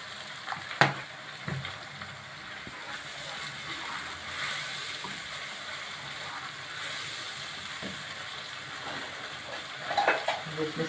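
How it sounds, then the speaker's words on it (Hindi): Tomato curry for a peas and potato dish simmering in a pan after a splash of water is added, a soft steady sizzle and bubbling with occasional clinks and stirring scrapes, close, with faint talk at times. "अब मैं थोड़ा सा इसमें पानी ऐड करूँगी।"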